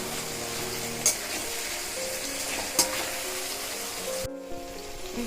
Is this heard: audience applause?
no